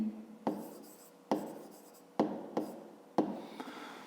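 Pen writing on paper during a fifth-grade math lesson, close and faint, with five distinct scratchy strokes spaced irregularly and no talk.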